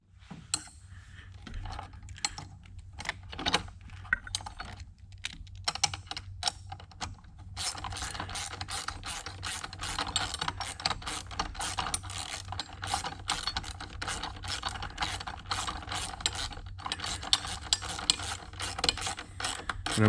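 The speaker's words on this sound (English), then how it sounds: "And then I'm going to tighten this up with my wrench and my ratchet" A ratchet tightening a bolt on an oil separator bracket on a 2021–2026 Ford F-series truck, rapid clicking that comes in short sparse bursts and then becomes a fast continuous ratcheting, close and clear.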